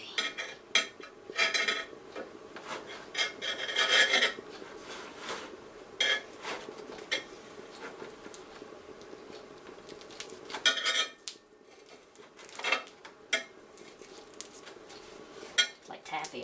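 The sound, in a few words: scraping melted HDPE milk jug plastic off a pan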